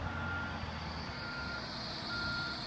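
A dump truck backing down a giant salt pile sounds a steady, evenly spaced reversing beep over a continuous diesel engine drone, moderately loud and unbroken throughout.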